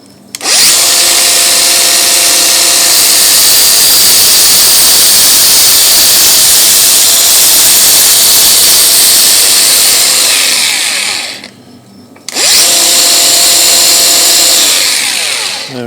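A power sander grinds steadily over the corners of an old steel bolt head, rounding the points where they meet the faces; a loud, continuous high whine that stops briefly near the end, then spins up again.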